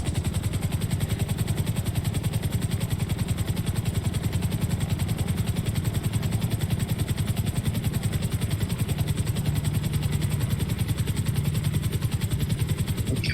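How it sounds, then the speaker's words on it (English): A helicopter in GTA FiveM powers up for takeoff from a helipad, giving a constant loud rhythmic rotor chop with an engine drone beneath it. No voices can be heard. "November Tango 106 requesting to Sandy Tower, requesting takeoff from the helipad"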